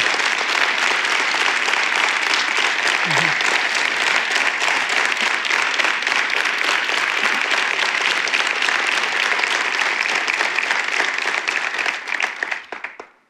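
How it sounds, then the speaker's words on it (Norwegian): Sustained, loud applause from a large audience at a party national convention, dense clapping filling the hall and then fading out at the end. "Ta applausen til deg, Anne."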